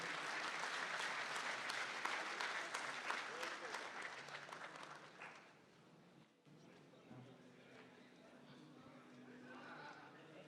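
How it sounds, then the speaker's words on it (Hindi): Enthusiastic audience applause greeting a poet at the IIT Kanpur Akshar literary festival, steady and full for about five seconds, then dropping away into a quieter hall with faint murmurs. "आप जोरदार तालियों से उनका स्वागत कीजिए"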